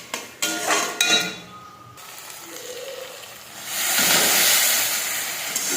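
A spoon clinks and scrapes against a pan while tomatoes are stirred and fried. A few sharp knocks come first, then a steady hiss and sizzle rises and holds close by. No one talks.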